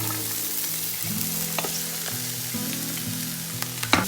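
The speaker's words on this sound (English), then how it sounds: "Then I'm going to fry 2 to 3 minutes till a little bit golden brown" Vegetables frying in a pan for a hot and sour vegetable soup, a steady close sizzle running throughout with occasional stirring clinks and scrapes near the end.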